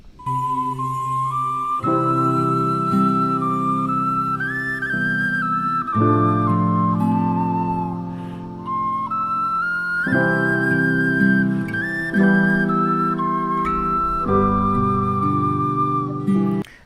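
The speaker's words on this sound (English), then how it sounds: "the next instrument is called a penny whistle" A penny whistle plays a lively melody of clear, bright sustained notes stepping up and down, over a steady accompaniment of low chords; loud and close, with no talking.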